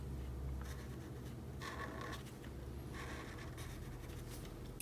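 A burgundy marker scratches across paper while coloring in a drawing, in short close bursts of strokes with brief pauses between, no voices.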